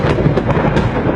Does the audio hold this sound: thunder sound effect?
yes